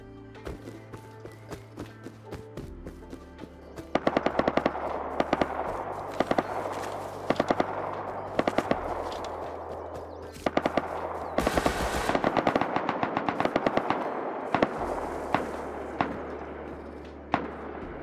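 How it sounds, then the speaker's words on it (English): Automatic AK rifle fire in the survival video game Rust, repeated loud bursts of rapid gunshots with short pauses between them, over a steady low game ambience and movement sounds. "There's no way he's tapping AK."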